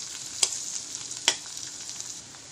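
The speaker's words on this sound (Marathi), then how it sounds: "आता हे आपलं ब्राऊन व्हायला सुरुवात झालेली आहे कांदा" Chopped onions browning in a pan with grated coconut for Maharashtrian katachi aamti give a continuous close hiss of frying, broken by two sharp scraping clicks of a spatula stirring them.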